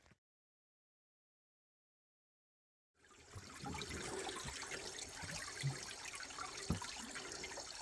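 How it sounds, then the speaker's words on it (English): Water pouring and trickling out of a leaking digger radiator, a steady splashing flow that starts abruptly after three seconds of silence and continues close and moderately loud. "I'll put some water in the radiator and show you where this leak's coming from."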